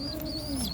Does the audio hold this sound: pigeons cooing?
yes